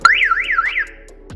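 A car with electrical faults sounds its alarm in a short rising-and-falling warble that repeats for under a second and then fades. A brief click follows near the end, and nobody speaks.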